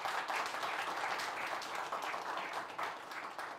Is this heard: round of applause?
yes